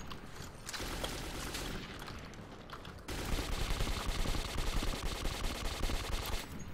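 Automatic weapons rattle in the Metro 2033 video game, delivering dense bursts of rapid machine-gun fire that get louder and more sustained partway through, loud and close with mechanical clatter mixed in.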